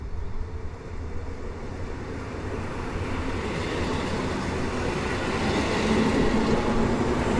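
AKM electric multiple unit trains pulling away at Warszawa Włochy station on a hot day, a steady rumbling roll of rail noise that builds slightly over the span, with no voices.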